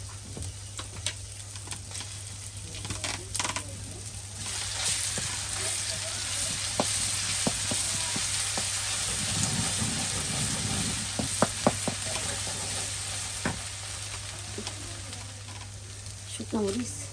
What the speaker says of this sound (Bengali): তেলটা অনেক ফুটে গেছে কিন্তু, এখন আমি সরিষা বাটা রসুন বাটা দিয়ে দিচ্ছি